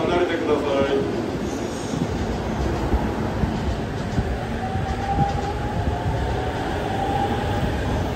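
An E231 series 500 commuter train departs Funabashi station, its wheels rumbling and a motor whine rising as it pulls away, with platform announcements spoken over it.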